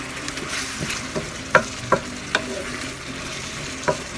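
Frog meat and bitter gourd sauté in a pan, with a soft, steady sizzle broken by several sharp clacks of a spatula against the pan, close by and without speech.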